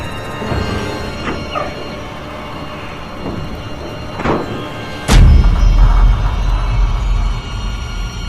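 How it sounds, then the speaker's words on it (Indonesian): Heavy thumps land on the roof of a truck in a horror radio drama effect: a few scattered knocks, then one loud booming impact followed by a low rumble. "itu suara pocong itu yang sepertinya meloncat-loncat di atas truk mobilku."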